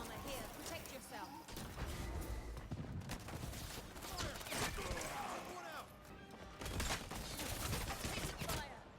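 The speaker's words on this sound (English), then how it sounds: "Taking fire." Video game gunfire crackles in dense, near-continuous bursts and volleys across the whole stretch, with sharp impacts mixed in and voices calling out over the action.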